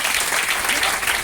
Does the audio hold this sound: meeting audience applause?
yes